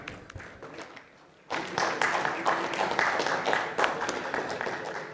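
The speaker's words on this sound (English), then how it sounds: "A big round of applause for Dr." An audience at the MAHA CRITICON 2025 medical conference in Nagpur bursts into applause after an oration. Dense clapping starts abruptly after a quieter moment and continues steadily to the end.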